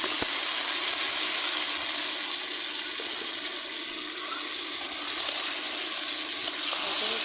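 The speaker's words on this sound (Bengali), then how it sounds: "এখানে আমার গ্রেভিটা ফ্রাই হয়ে আসছে" Gravy frying in a pan for a mutton curry with boiled mutton, a steady bright sizzle holding evenly from start to end, close and loud, with a few faint clinks and no talking.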